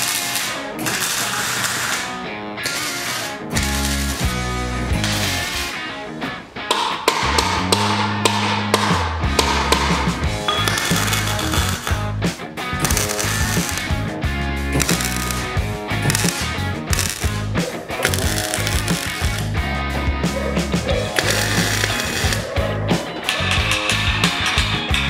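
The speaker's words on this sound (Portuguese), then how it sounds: "é só fazer aqui o ajuste, deixar ele no lugar certinho onde ele precisa ficar e já posso começar a dar os pontos de solda" Tack welding on a steel sliding gate frame: dense, continuous crackling, buzzing and clanking metalwork sounds, loud and close, running without pause and with no speech.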